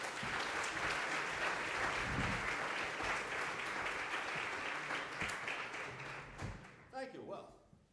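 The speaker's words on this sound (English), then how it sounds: "Well, with all those applause" Applause from a lecture audience greeting a professor's talk on predicting the future with game theory, dense and steady, thinning into scattered claps near the end.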